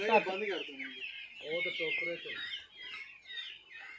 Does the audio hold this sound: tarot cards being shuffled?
no